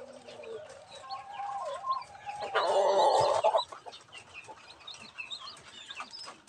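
A brooding hen clucks softly in a coop where a rooster is kept with her and newly hatched chicks, the low clucks rising to one louder stretch of calls in the middle, with no voices.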